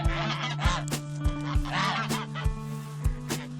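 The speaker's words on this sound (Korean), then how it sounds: "이번에도 핑크는 둥지를 지키기 위해 상대편 리더 거위 레오와 싸우고 있다." Geese honking while fighting over a nest, loud harsh repeated honks in quick irregular bursts, close up, joined by flapping and scuffling noises.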